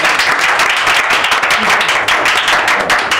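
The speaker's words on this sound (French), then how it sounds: "on le raccompagne avec des applaudissements" A studio audience at a radio game show applauds, a dense burst of many hands clapping at close range that keeps up steadily throughout.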